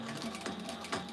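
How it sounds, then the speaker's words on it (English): A sewing machine runs steadily in a brief burst of rapid mechanical stitching hum, close and fairly quiet. "On this sewing machine,"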